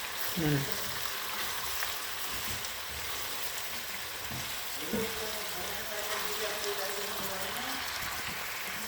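Chunks of meat for zharkoe sizzle and fry in a pan, a steady, moderate crackle throughout, with a few clinks or stirring knocks and a voice speaking softly in the background.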